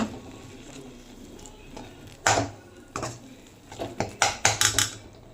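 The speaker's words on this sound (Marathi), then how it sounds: "पूर्ण नारळाचा कीस हा मी साखरेच्या पाकामध्ये छान असं मिक्स करून घेते" A spoon stirs grated coconut into sugar syrup in a pan, making sparse clinks and scrapes that grow into a quick run of sharp taps against the metal toward the end.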